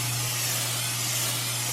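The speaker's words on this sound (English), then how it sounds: "I'm just gonna do a quick spray and get my pan ready" Cooking spray spritzed onto a baking pan before brownie batter goes in, a steady, close, loud hiss that holds without a break over a low hum.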